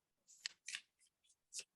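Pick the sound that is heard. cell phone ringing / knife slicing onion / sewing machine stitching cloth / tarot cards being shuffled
tarot cards being shuffled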